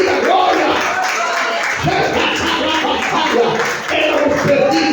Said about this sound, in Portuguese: Aplauda forte, diga glória!